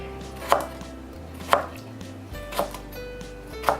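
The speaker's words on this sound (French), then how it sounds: "je vais couper le concombre en petits carrés" Knife chopping cucumber into small cubes on a board for onigiri: four sharp, evenly spaced chops about a second apart, close and clear over a quiet background.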